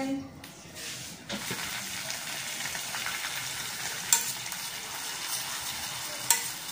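Steady crackling sizzle of oil frying in a pan, fairly close, with a couple of sharper pops and faint background voices.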